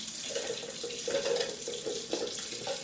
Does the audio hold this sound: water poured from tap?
yes